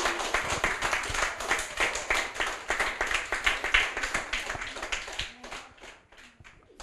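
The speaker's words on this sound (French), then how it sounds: "On les applaudit bien fort." An audience at a French school book programme claps steadily and briskly, a dense run of close hand claps that thins out and fades toward the end.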